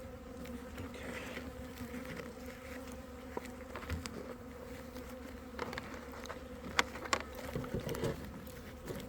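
Honey bees swarm and buzz steadily around an open hive whose queen has left, a dense close hum with a few sharper bursts as individual bees pass near.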